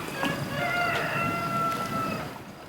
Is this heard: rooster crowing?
yes